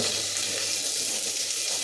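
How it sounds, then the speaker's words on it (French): Onions fry in a very hot stainless steel pan, giving a loud, steady sizzle and crackle that fills the whole stretch with no voices. "quand vous faites griller les oignons dans une casserole en inox très chaude"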